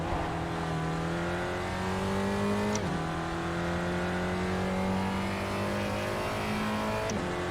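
A Spec Racer Ford race car engine in the iRacing sim at Spa-Francorchamps drones steadily at high revs, climbing through the gears with two quick shift dips. The sound is constant and close, with no talk.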